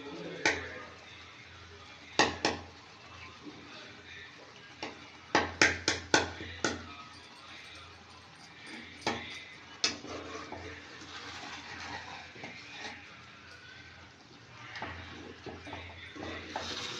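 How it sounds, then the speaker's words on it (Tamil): Egg and semiya (vermicelli) being stirred in a pan with Maggi masala, a spoon clanking and scraping against the metal in scattered sharp knocks, with a voice talking throughout. "எல்லா சைடும் முட்டை போகணும், அதுக்காண்டி அந்த மாதிரி கிண்டிக்கோங்க."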